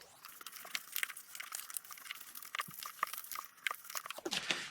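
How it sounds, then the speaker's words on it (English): Designer series paper for a Valentine's chocolate box is folded and burnished by hand, giving close, crisp crinkling and scraping rubs in irregular bursts with no talking. "And now we want to fold and burnish."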